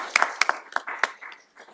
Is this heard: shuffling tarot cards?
no